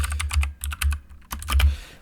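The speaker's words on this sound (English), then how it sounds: "I'm typing everything in correctly." Rapid keystrokes clatter on a computer keyboard, close and crisp, in quick bursts with short pauses between groups of taps.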